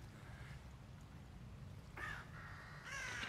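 A raven in The Evil Within caws a few times at intervals, harsh calls heard at moderate distance over steady wind-like ambient noise.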